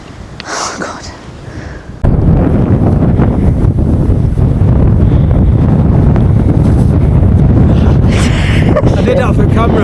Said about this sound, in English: Quite windy and we're not even high yet.